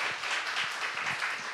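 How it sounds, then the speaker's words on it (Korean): Church congregation applauding during an Easter worship service, a steady wash of many hands clapping at moderate level with no voices over it. "우리 하나님께 영광의 박수 한번 올렸으면 좋겠습니다"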